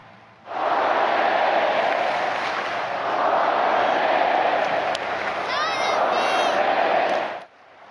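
A football stadium crowd at a Tottenham versus Newcastle match rises in a standing ovation, a dense roar of applause and cheering that swells and holds steadily for several seconds before cutting off.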